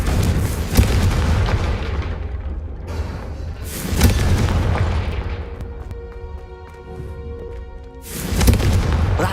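Confringo fire spell blasts in Hogwarts Legacy, several deep booming bursts with rumbling tails, loud and close, over game ambience and a low musical bed.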